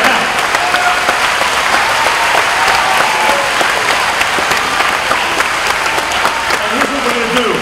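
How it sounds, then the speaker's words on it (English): Middle school students keep up sustained, loud clapping at a fitness center ribbon cutting, a dense even wash of many hands with faint voices mixed in. "keep our hands together, keep on clapping, because the more you clap, the more calories you burn"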